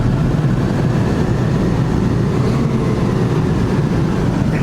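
A 2016 Freightliner 114SD water truck's engine runs loud and close with the PTO pump engaged. It gives a dense, steady low rumble with no clear rev changes and no voices.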